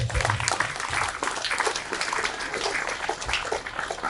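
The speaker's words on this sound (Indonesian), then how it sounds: "Tepuk tangan Bapak Ibu sekalian" An audience at a talk show on the manners and character of Islamic boarding school students claps in a quiet, scattered burst of applause, heard at a distance and fairly soft.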